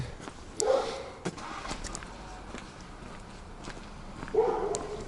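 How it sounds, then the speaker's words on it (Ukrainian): Two distant dog barks ring out about four seconds apart over a steady outdoor background hum, with faint footsteps in between. "собаки гавкають, чуємо"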